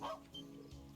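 A puppy in a video game gives a couple of faint, short yips and barks, quiet and brief.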